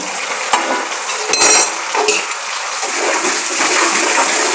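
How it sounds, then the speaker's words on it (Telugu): Chopped tomatoes going into a pan of frying onions, with scattered clinks and scrapes of stirring over a steady sizzle that grows slightly louder toward the end. "ఇప్పుడు మనం టమాటా వేసుకుందాం"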